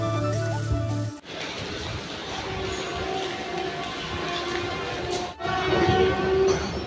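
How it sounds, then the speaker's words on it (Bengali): The 13104 Bhagirathi Express rolling into platform 2 at a railway station, its horn sounding loud and close at the start and again near the end over a steady rumble of wheels and carriages. "ট্রেন আমাদের 2 নম্বর প্ল্যাটফর্মে ঢুকে দিয়েছে"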